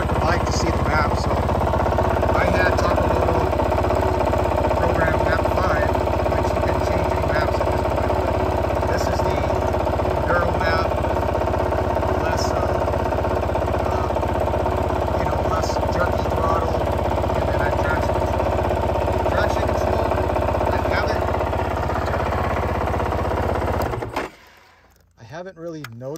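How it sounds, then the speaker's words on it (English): Honda 450RL motorcycle engine running steadily at idle, loud and close, a continuous mid-pitched drone that cuts off near the end. "let me start it. I have to start the bike to see the map"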